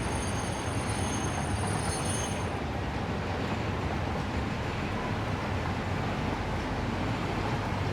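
A train runs along a railway in the game Satisfactory, a continuous loud rumble of wheels on track with a faint high squeal early on, steady and close throughout, no talk.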